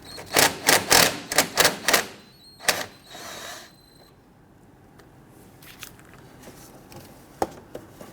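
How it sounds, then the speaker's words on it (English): A 10mm socket wrench on an extension loosens a splash shield bolt on a 2011-2015 Kia Sorento, giving a quick run of sharp ratcheting clicks, then a short scrape and faint scattered taps. "We're going to use our 10mm with our extension."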